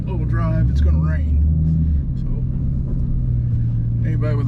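Steady low rumble of a 2010 Ford Mustang GT, a black car, driving along, its engine note swelling briefly near the start, with someone talking over it for much of the time.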